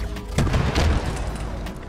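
A rocket launcher blast in Halo Infinite, a single heavy boom that hits hard near the start and rolls into a dense, rumbling tail of further explosive noise.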